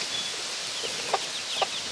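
Two short, soft clucks from a chicken pop out against a steady hiss of background noise, with faint bird chirps scattered nearby.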